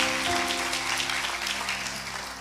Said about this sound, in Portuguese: Vamos aplaudir a equipe de louvor, que foi uma benção.